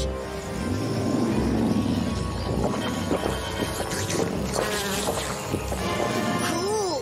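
A mosquito buzzes close and steady in a cartoon scene, a thin continuous whine over a busy background with a few other rustles and knocks.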